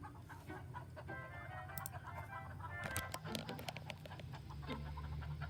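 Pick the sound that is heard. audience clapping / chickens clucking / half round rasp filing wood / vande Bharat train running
chickens clucking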